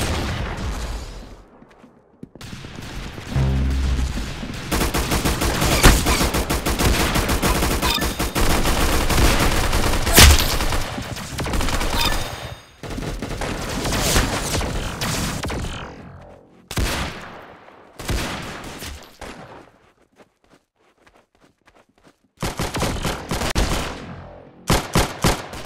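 Gunfire in the video game Arsenal: dense bursts of rapid shots and booming fire, loud and close, broken by short quiet gaps, with several separate volleys near the end.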